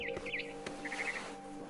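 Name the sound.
barn swallow chirping, What Remains of Edith Finch video game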